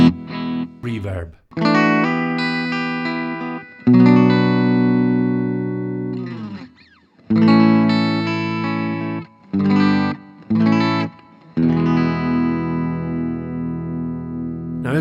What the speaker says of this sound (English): Reverb.